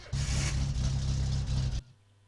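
A car engine in the My Summer Car video game runs with a loud, rough low drone for under two seconds, then cuts out abruptly as it stalls, leaving only a faint low hum, no talking.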